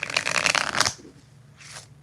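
Tarot cards shuffled by hand in a quick riffling flurry, close and crisp, followed by a short pause and a second brief riffle.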